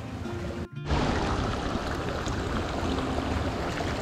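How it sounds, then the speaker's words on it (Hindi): Steady broadband rush of water flowing beneath a frozen ice layer on a snowy Himalayan trek trail in Uttarakhand, a continuous close wash broken only by a brief dropout early on. "उस बर्फ के अंदर से पानी जा रहा"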